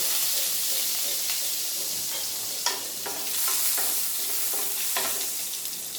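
Chopped garlic sizzles in hot oil left from frying chicken for chilli chicken fried rice. A steady, close hiss runs throughout, with a few light clinks of stirring.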